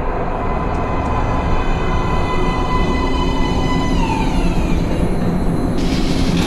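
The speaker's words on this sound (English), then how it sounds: "Train coming in." In the video game Metro Last Light, a subway train rolls into a platform with a loud, continuous rumble and hiss plus faint whining tones, steady throughout with no voices.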